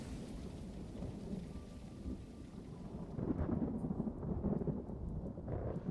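Thunderstorm weather in the block-building game Brickadia: steady heavy rain hisses throughout, and a deep rolling rumble of thunder swells in about halfway through and stays loud to the end.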